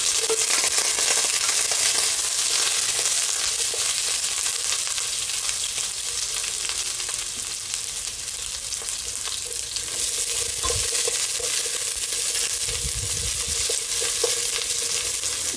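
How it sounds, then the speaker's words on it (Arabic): Onion sautés in ghee in a pan, giving a steady, close sizzle and frying crackle with occasional stirring scrapes, and no voices over it. "هنزل بالبصلة دلوقتي علشان تتشوح."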